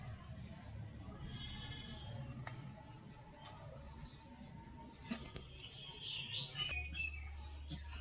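Faint bleating from Black Bengal goat kids rises over a low, noisy outdoor background on a small farm, with a few sharp clicks and chirps.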